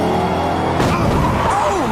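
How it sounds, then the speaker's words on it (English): A race car's engine blows during a Cars 2 animated-film race: a loud, strained motor roar breaks into a sudden crackling burst, with tire-squeal-like whines trailing after it in the brief moment. "Oh, Miguel Camino is blowing an engine!"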